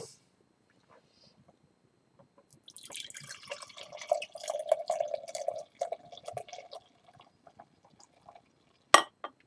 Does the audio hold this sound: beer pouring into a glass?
yes